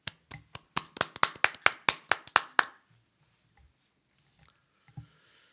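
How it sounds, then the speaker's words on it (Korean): About a dozen sharp, close hand claps in a quick, slightly uneven run from a small church gathering welcoming a pastor, stopping abruptly after under three seconds and leaving near silence with a few faint knocks. "박수로 모시겠습니다."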